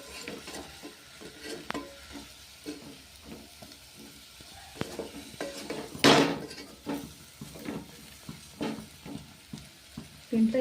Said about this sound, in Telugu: దీన్ని కొంచెం నిదానంగా కలుపుకోండి.